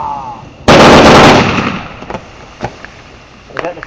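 A loud consumer fireworks barrage fires off in one sudden blast followed by a rushing crackle, then scattered fainter pops and bangs trailing away outdoors.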